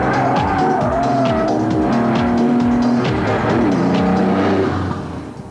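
A TVR Tuscan sports car is driven hard, its loud engine rising and falling through repeated revs and gear changes, with tire squeal at times, close and continuous before easing off at the end.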